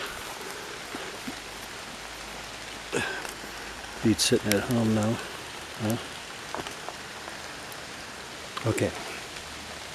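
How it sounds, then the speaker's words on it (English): Steady rain falls outdoors at a gem mine, a constant soft patter under a man's occasional speech. "It's still raining, by the way."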